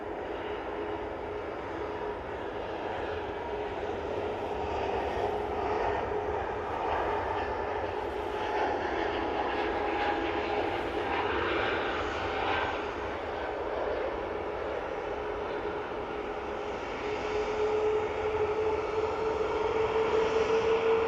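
An Air France Airbus A220 departing Manchester Airport, a steady sustained jet engine roar at moderate distance that holds evenly throughout, with a rising whine toward the end.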